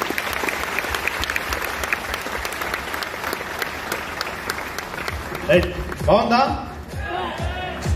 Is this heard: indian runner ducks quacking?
no